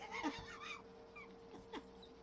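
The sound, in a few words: voice imitating a sheep bleat while trying to growl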